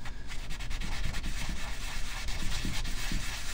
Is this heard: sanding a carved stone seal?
yes